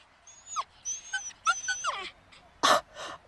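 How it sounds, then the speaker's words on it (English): Growling, yelping and whining from a summoned fiery demon dog in a fantasy wrestling battle, coming in several short snarling bursts close up, with one loud harsh burst near the end. "There's a lot of ripping and snarling going on there, poor Juno."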